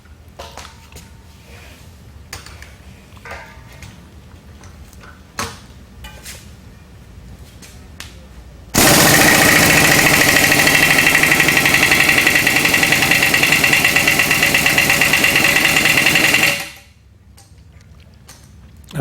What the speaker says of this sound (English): We've made a special tool which just allows us to use the impact gun